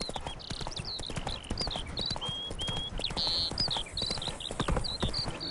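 Horse hooves clip-clop in a steady, rapid rhythm in a video game, close and clear, with bird chirps scattered over the hoofbeats.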